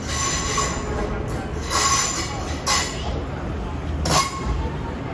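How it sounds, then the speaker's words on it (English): An Irish Rail DART Class 8600 electric multiple unit pulls into a station bound for Bray, its wheels squealing loudly and steadily up close with a continuous rumble. "On track 5, here comes a train bound for Bray."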